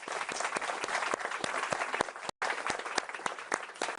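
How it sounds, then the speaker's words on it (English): Applause from the audience at the Global AI Summit in Paris for a four-person panel, many hands clapping in a fairly even, moderately distant burst, with one very brief dropout midway. "Let's give them a round of applause."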